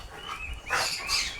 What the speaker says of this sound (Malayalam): പട്ടി കിടന്ന് കുരയ്ക്കുന്നു നന്നായിട്ട്.